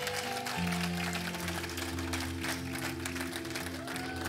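A church congregation claps and cheers for the Lord in a continuous, loud wash of applause, layered over sustained organ or keyboard chords filling the room throughout.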